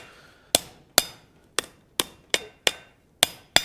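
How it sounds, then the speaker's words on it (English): Hammer blows on hot metal worked over the sharp corner of an anvil, eight crisp ringing strikes in a steady rhythm, each one close and loud with a short metallic decay between hits. "we're going to hammer it right around the sharp corner here"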